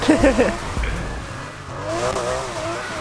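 Porsche RSR drift build sliding in Need for Speed Heat, an engine droning and tires squealing close and loud, with someone talking over it.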